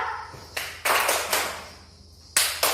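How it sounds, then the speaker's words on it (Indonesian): Hand claps in a strong, medium and weak pattern ring out sharply close by: about five distinct claps at uneven intervals, each followed by a short room echo, with no speech. "coba kita buat pola satu, tepuk kuat, tepuk sedang, tepuk lemah."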